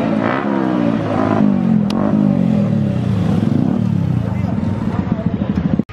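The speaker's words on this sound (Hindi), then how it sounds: "और देखो कुछ आ गई सुपर बाइक्स।" Several superbikes pull in and rev at a large bikers' rally in Delhi, engines rising and falling close by, with a speaking voice over the engine noise.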